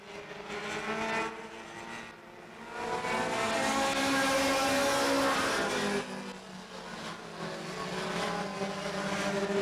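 Pure stock cars race at Claremont Motorsports Park, engines droning and swelling continuously as the pack roars past, loud and sustained with rising and falling pitch.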